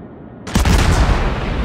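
Warship main guns in World of Warships opening fire on a destroyer, a sudden heavy salvo of booming blasts that erupts after a quiet moment and rumbles on loudly, close and deep.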